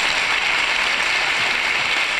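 An audience at a theatre play gives steady, dense applause. The clapping stays even and fairly loud for a short stretch.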